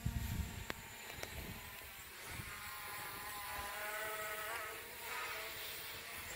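The electric motor of an RC Ghost F100 model plane on its maiden flight whines at throttle, a thin, steady buzz heard faintly at a distance outdoors, with a few louder knocks at the start.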